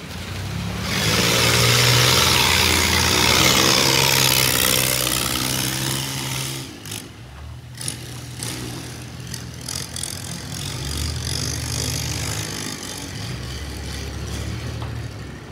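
A barge's diesel engine chugs on a river in Vietnam during a sluice closing. The mid-pitched drone swells loudly at first, then settles into a steady running rumble with scattered knocks.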